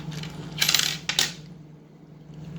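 A coin flipped in a motel room, two quick metallic rings as it lands and settles, close and clear over a low steady hum.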